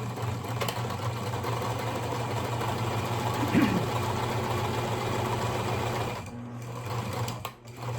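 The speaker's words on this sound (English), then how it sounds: "I'm gonna sew along the short side of my rectangle like so, following the edge of my presser foot" A sewing machine stitches along the short side of a fabric rectangle for a scrunchie, its motor whirring steadily and close for most of the stretch before a brief slowdown near the end.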